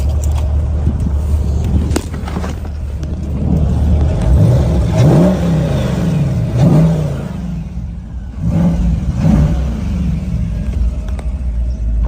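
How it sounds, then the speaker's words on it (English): A muscle car engine is revved through several throttle blips, each rising and falling over a steady, deep, loud rumble of idle, with no talking. "I'm gonna go ahead and give this thing a rev so you can hear this engine."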